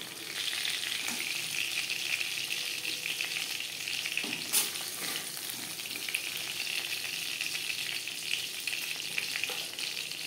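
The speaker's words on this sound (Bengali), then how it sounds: "মাছ ভেজে নেওয়া তেলে দিয়ে দেব পেঁয়াজ, টমেটো, আদা, কাঁচা লঙ্কা ও 7-8 কোয়া রসুন।" Onion, tomato, ginger, green chilli and seven or eight garlic cloves fry in oil left from frying hilsa fish, a continuous bright sizzle with occasional stirring clatter.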